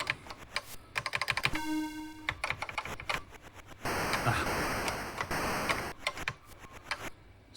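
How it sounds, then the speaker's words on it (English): Rapid, crisp key presses on a National CF-3000 MSX computer keyboard during a game, clicking in irregular bursts alongside beeps and a hissing burst of game sound. "it's a bit difficult playing with the keyboard actually"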